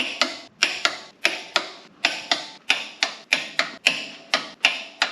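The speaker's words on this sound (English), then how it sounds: "I'm going to get my torque wrench set up to 160 and we'll torque them" A torque wrench set to 160 ratchets on the track frame bolts of a Caterpillar D4 crawler, giving steady, close, metallic clicks with a sharp snap at the start of each, about two or three per second, with no talking.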